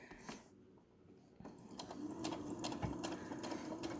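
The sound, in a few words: sewing machine back stitching tote bag seam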